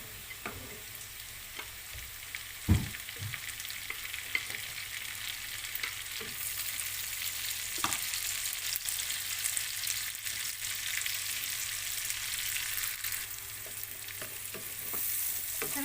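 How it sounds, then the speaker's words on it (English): Onion and carrots saute in a pan for pancit bihon, giving a continuous close sizzle with scattered stirring scrapes and clicks, steady and without talk. "We have to saute this until it gets translucent or golden brown."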